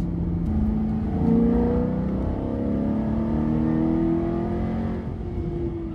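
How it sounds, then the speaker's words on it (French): An Alfa Romeo 8C Competizione sports car engine revs steadily higher, its tone climbing through the gears, loud and close with a continuous rising whine. "on pousse, ça prend les tours et le moteur au plus on monte au plus il tire"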